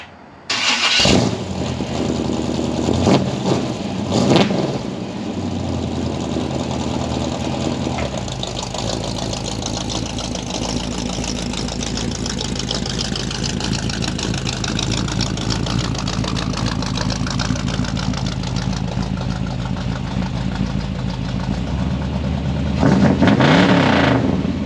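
A 1957 Chevy convertible fitted with glass pack mufflers cranks and fires, then settles into a steady, loud, rumbling idle that holds for about twenty seconds before a brief rev at the end; no talk.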